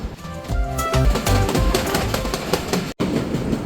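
A Rajshahi commuter train runs on the rails after leaving Amnura Junction, its steady, loud rumble and rhythmic clickety-clack continuous throughout, with a brief dropout near the end.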